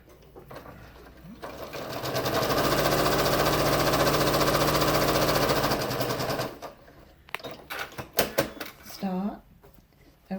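A sewing machine runs in one steady, loud burst of stitching along a log cabin quilt block seam, then stops and gives way to rustling fabric handling and brief clicks.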